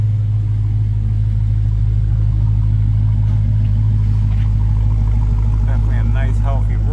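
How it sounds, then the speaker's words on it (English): A 2023 Dodge Challenger R/T Scat Pack sits idling, its exhaust heard from behind the car as a loud, steady low rumble. A voice talks faintly over it. "let's go ahead and look at the back so you can hear the exhaust tone from the outside"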